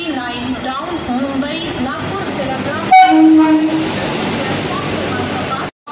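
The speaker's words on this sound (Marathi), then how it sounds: "ट्रेन आली मित्रांनो आपली." The Sevagram Express arriving at Thane station, a loud rumble of the train rolling in with a sharp horn blast in the middle, while people talk nearby on the platform.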